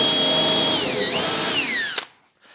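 A power drill drives screws into wood while a front deck is built on a 1983 PolarKraft boat, a steady close whine rising and dipping in pitch before stopping abruptly.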